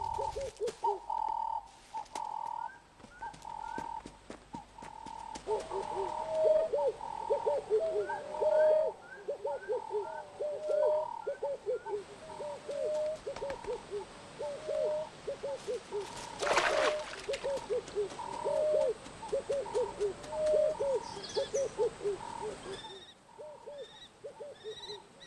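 Bird calls at a semi-desert water area, with repeated cooing and chirping from several birds close by, steady over a quiet background, plus one brief louder burst partway through.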